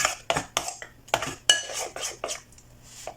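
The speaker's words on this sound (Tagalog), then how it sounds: "Mix-mix lang hanggang mawala yung mga lumps." A utensil beats a pumpkin-snack batter with baking powder in a bowl to work out lumps, making a quick rhythmic series of close clinks and scrapes.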